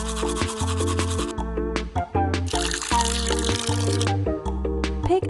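Bristles of a toothbrush rub back and forth as a cartoon panda is scrubbed at bathtime, a steady brisk scrubbing beneath bouncy children's music with a bright melody.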